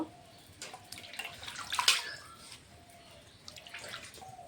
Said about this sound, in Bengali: এরকম করে শাকটা আমি দুবার তিনবার ধুয়ে নেব।